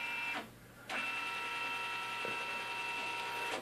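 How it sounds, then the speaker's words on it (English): A Canon D530 laser printer's scanner whirs steadily with a mechanical hum, pausing briefly near the start before resuming its continuous motorized drone. "You can hear the scanner"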